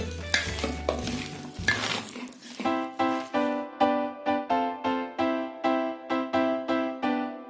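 A spoon clanks against a metal bowl while cabbage pakora batter is mixed with spices: some messy scraping at first, then a quick, regular series of ringing clinks, close and fairly loud.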